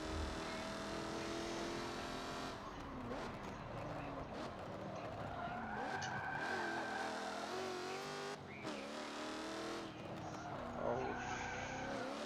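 Tires squeal and skid as the locked front wheels of a race car slide under braking in a racing video game. The screech is sustained over a loud revving engine across several braking moments.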